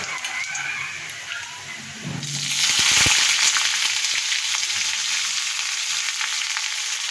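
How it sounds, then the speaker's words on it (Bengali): Sliced onion drops into hot oil with dry red chilli and nigella seeds in a kadai, and a loud, close, steady sizzle starts suddenly and continues unbroken, with no talking. "এই যে কড়ায় তেল দিয়ে দিয়েছি, আর এই যে শুকনো লঙ্কা কালো জিরে দিলাম ফোড়নে। তারপরে এই যে পেঁয়াজটা দিয়ে দেবো।"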